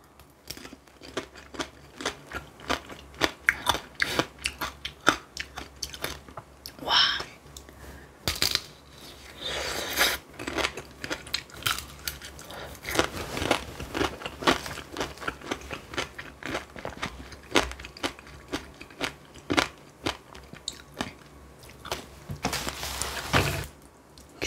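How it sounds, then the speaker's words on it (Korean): Someone bites and chews strawberry tanghulu, the candied fruit cracking with sharp, glassy crunches that come in many close, irregular bursts over steady chewing, loud and near with no talk. "딸기부터 먹어볼게요"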